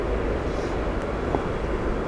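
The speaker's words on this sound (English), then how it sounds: "American Airlines just taxiing" An American Airlines airliner taxiing at Heathrow Airport gives a steady, broad jet engine roar at moderate distance, unbroken throughout with no voices.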